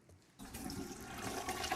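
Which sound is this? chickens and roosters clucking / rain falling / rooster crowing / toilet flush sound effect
toilet flush sound effect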